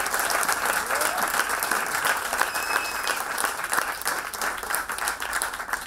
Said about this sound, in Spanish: para que damos un primer aplauso de la noche